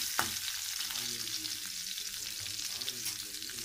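Elephant foot yam being sautéed in oil in a pan for masiyal, a steady close sizzle with occasional scrape and tap of a spoon stirring, no talking.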